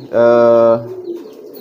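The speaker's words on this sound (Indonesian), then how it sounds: "merpati kalian itu pasti akan giring keras seperti ini" A pigeon gives a loud, close coo with a steady harmonic tone lasting about half a second, followed by softer low murmuring.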